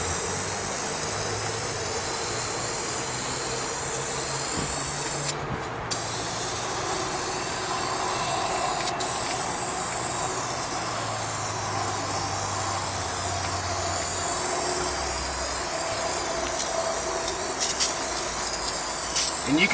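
Dye sprayed onto a car's carpet as a cheap interior fix-up, a steady loud hiss running continuously throughout, with a brief break near the middle.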